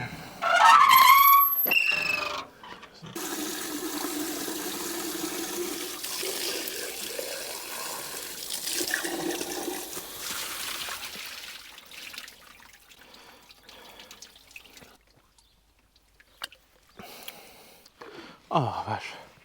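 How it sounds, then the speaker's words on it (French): Water runs from an open tap, a close, fluctuating gush that is loud at first, softens and breaks off, then returns in short bursts, with scattered voice sounds nearby. "j'ai bien fait de passer parce que le robinet était ouvert"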